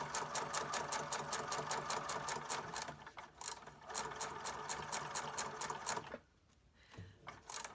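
A sewing machine stitches random crisscross lines through junk journal paper, a fast steady mechanical chatter with an even rhythm. It runs nearly continuously, stops briefly near the end, then starts again.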